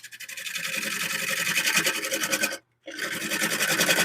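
A wood lathe turns a wooden plate against a carbide tool. The rhythmic, pulsing scrape is loud and close, stops briefly for a moment of silence, then resumes.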